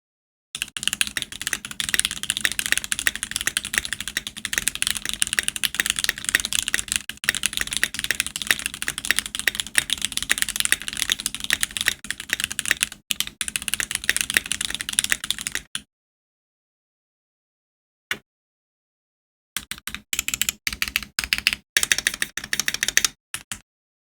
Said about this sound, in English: let me do a typing test on the stock keyboard itself